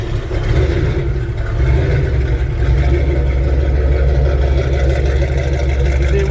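An LS4 V8 swapped into a Pontiac Fiero runs steadily, a deep, loud, even engine rumble with a slight rise partway through, heard alone without talk.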